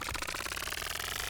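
Steady buzzing motor hum with a dense rhythmic flutter, part of a sci-fi sniper rifle charge-up built from taser recordings, holding loud and close throughout the short span.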